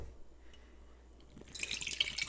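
Barrel-aged imperial stout, a rye and Vietnamese coffee edition, is poured into a glass, starting quiet and swelling into a close, steady liquid rush with faint glassy splashes.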